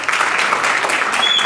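A crowd applauds steadily, a dense wash of clapping hands at moderate distance, with no talking.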